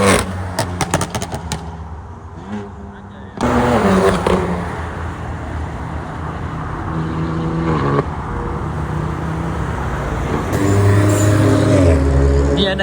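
A BMW M4 sports car accelerates on a mountain road with a loud engine roar that climbs through rising revs and gear changes, close by and drawing nearer.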